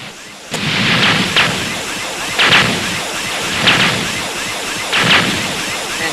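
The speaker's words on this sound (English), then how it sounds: "when these key blasts collide with the object, you hear how they're making sound" Energy blasts hitting an object in a homemade video game, four evenly spaced booming bursts like artillery fire, loud and close over a continuous rumbling background.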